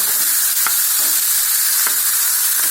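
Tomatoes sautéing in a pan for a cauliflower varuval, a loud, steady hiss of frying with a few faint utensil taps, close and continuous with no talking.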